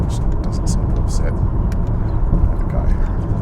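A 2020 Mazda CX-30 cruising at 100 km/h near Cape Schanck, Australia, with a steady low road and engine rumble filling the cabin and someone talking over it throughout.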